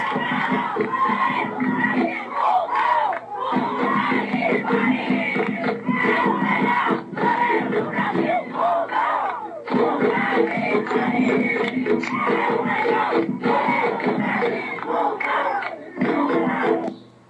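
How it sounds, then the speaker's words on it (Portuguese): Paus Pretos football supporters chant and cheer for their goalkeeper Guilherme, a massed crowd singing loudly and continuously with brief dips between phrases. The chant echoes from a stadium stand. "a torcida no meio do seu canto aí, ovacionando o goleiro Guilherme"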